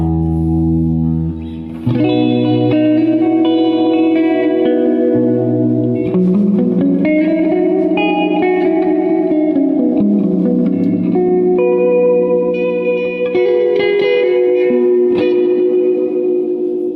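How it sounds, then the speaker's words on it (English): Electric guitar chords and a slow melodic line ring out through an amp's built-in reverb turned fully up, heavy and washy, each note trailing into a long, lush tail. "It's basically a reverb pedal built into the amp."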